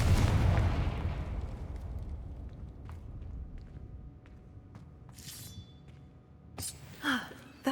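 A blasting Confringo fire spell from the Hogwarts Legacy video game bursts loudly at the start, its heavy boom fading into a low rumble with a few lighter pops and crackles afterward.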